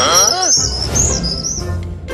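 Cartoon birds chirp and tweet near a nest in high, whistling calls, loud and close, with a short rising trill at the start.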